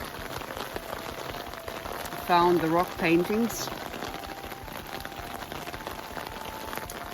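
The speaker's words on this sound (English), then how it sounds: "it's really raining in here." Steady rain patters continuously outdoors in Finland while a person speaks briefly in the middle.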